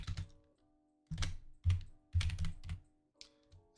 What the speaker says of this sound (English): I'm really slow at typing